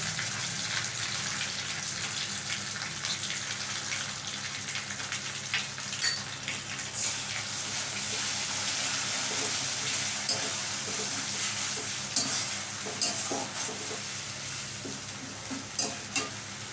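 Tomato paste fries in a pan for a jackfruit kofta curry, giving a loud, steady sizzle throughout, with the scrape and clatter of a spoon stirring it now and then.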